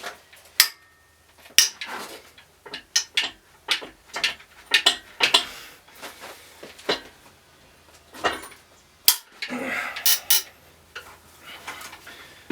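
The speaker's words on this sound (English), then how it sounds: "I've actually been having to use my breaker bar on it to get them off, making all sorts of noises" A breaker bar cracking loose stiff cylinder head bolts on a BMW E36 engine during a strip-down, giving a series of sharp metallic clicks, creaks and knocks in irregular bursts, close and loud, with a grinding rattle near the end.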